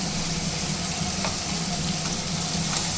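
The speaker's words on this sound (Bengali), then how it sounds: "তা এবার টমেটো কুচিটা দিয়ে দেবে।" Chopped tomato going into a hot frying pan for chicken khichudi, giving a dense, continuous, loud sizzle with faint stirring, close up and without talk.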